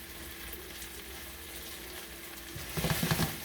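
Food, likely shrimp for seafood risotto, sizzling and crisping in a nonstick skillet, a steady soft hiss that stays low and even before a brief burst of louder crackling and stirring at the end.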